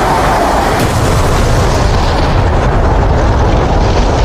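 Unguided bombs from an Su-25T Frogfoot detonating in DCS World, a loud, sustained rumbling roar of blasts that fills the whole stretch with dense low-end energy and no voices.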